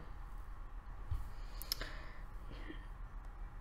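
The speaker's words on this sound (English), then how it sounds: "You want to click it once, then click go live." Mouse clicks while a YouTube live stream is set up: two or three faint, sharp clicks in a quiet room, with the clearest near the middle.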